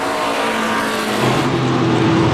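The 22 stock car's engine runs at the 2008 Coke Zero 200 race as a loud, steady, dense roar that gets slightly stronger partway through, with no voices.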